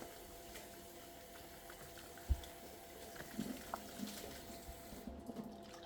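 Onions and tomatoes are rinsed under a running tap in a small room kitchen in Dubai, a faint steady stream of water with a few soft splashes and knocks against it.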